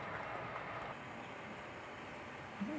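An HO scale model train runs along a layout with a low steady rolling rumble, faint and continuous, with a brief slightly louder bump near the end.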